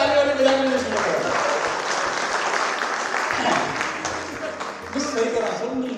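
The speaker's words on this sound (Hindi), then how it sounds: "एक बार पूरा सब ताली वाली बजाने शुरू करो" Audience applause at a Hindi poetry recitation, a steady wash of clapping from a crowd that continues for several seconds with a voice speaking over it.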